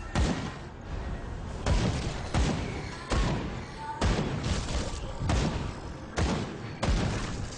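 Gunfire from a weapon in the action RPG Grim Dawn, heavy repeated blasts roughly every second over a dense backdrop of game noise, loud and close throughout.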